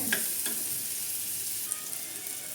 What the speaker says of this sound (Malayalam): ഞാനിപ്പോൾ ചെറിയ ഉള്ളിയാണ് ഇട്ടിരിക്കണേ നല്ല പോലെ ഒന്ന് വാടട്ടെ